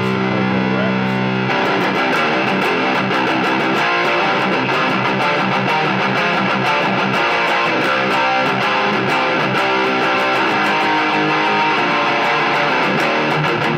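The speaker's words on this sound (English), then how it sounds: "This one's the Purple Rat distortion." Electric guitar played through a Digitech RP250 on its Purple Rat distortion setting into a Marshall amp, a loud, dense, continuous distorted tone with strummed chords throughout.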